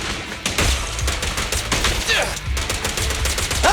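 Rapid gunfire in Zenless Zone Zero combat, dense bursts of close, loud shots with sharp impact clicks, layered under game effects and voiced character callouts.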